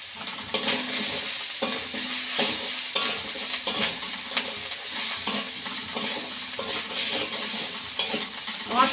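Masala with Maggi seasoning sautéed in a pan for an egg patties filling, stirred in a steady rhythm of spatula scrapes and taps over a continuous, moderately loud sizzle.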